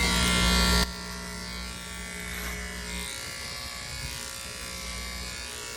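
Electric hair clippers buzz loudly and close, dropping to a steadier lower hum as they cut curly hair in a downward motion for a short taper.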